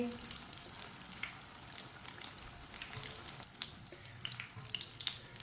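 Egg pakoras frying in oil, turned and cooked through, giving a steady soft sizzle with scattered crackles and small pops. Faint kitchen noise sits underneath, and no one speaks.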